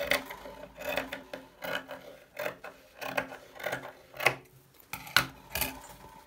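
Scissors or a blade cut through a piece of felt for a small straw bag, a series of close, soft rasping snips in an uneven rhythm with quiet pauses between strokes.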